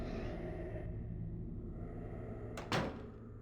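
A door opens in the video game Silent Hill 2, a brief sharp creak and thud near the end over a steady low ambient game drone.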